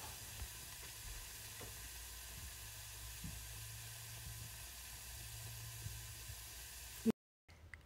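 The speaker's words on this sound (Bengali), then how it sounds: "এগুলোকে তেলের মধ্যে ভেজে নিব" Jalebi frying in oil, a faint, even sizzle and hiss running steadily with a few small pops, cutting off abruptly near the end.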